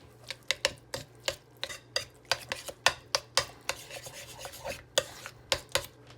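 A seasoned shawarma filling is mixed in a bowl, with about two dozen sharp scraping strokes of a utensil against the bowl arriving in an uneven, brisk rhythm. The strokes are close and clear, with no voices.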